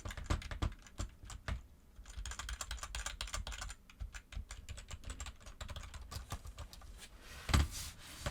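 Keys on a computer keyboard pressed at a normal, unforced pace, close to a desk-mounted fifine K669B microphone; a continuous stream of crisp clicks with brief pauses and one louder thump near the end, no talking.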